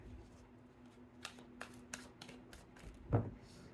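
Tarot cards being shuffled by hand, a series of crisp close riffles and flicks in irregular bursts, ending with a louder thump as the deck is squared, with no talk over it.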